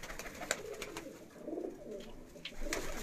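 A twelve-year-old Shaheen Teddy pigeon gives soft, low coos that swell and fade, set among scattered brief clicks and a constant background hiss, with no speech.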